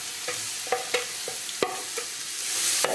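Onions sizzle in olive oil in a hot pan while being stirred, a steady close frying hiss broken by sharp clinks and scrapes of the utensil, with no voices.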